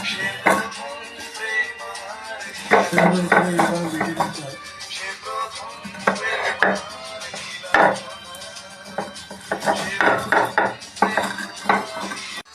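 Kul (jujube) pickle ingredients being ground into a paste in a home kitchen, with repeated scraping, knocking and clinking of utensils on a vessel in irregular bursts, close and fairly loud.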